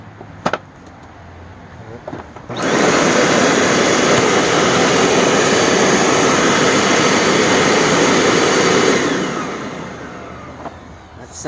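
A Dirt Devil pet vacuum cleaner, repaired after a teardown, switches on with a loud, steady, close motor roar that holds for several seconds and then winds down, with a few handling clicks around it.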